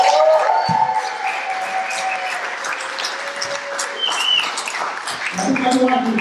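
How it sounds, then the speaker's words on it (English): Applause rises from the audience at a comedy show's grand opening after a comedy legend is introduced, a steady broadband clatter of clapping lasting throughout, with voices and cheers mixed into the crowd noise. "give yourselves a hand for coming out"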